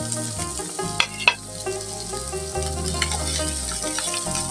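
Garlic cloves and chopped onion frying in hot oil in a pan, giving a steady, moderate sizzle with a couple of sharper spits and a faint tonal hum underneath.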